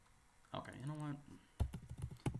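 Typing on a computer keyboard: a quick, uneven run of close keystrokes that follows a short voiced sound.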